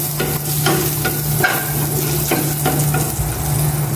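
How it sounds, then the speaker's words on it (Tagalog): Garlic sizzles steadily in hot oil in a frying pan, with a constant crackling hiss and a few soft scrape strokes from stirring, no voices. "Igisa ko na itong bawang."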